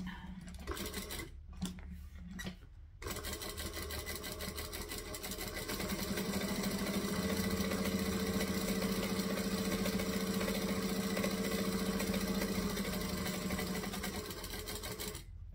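A sewing machine stitching vinyl piping runs at a steady buzzing hum after a few short stop-start bursts, then keeps a continuous drone at even loudness to the end, with no talking.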